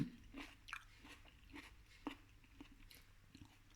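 Soft, moist chewing of prunes, with irregular bites and squelchy crunches repeating close to the microphone, no talking over them.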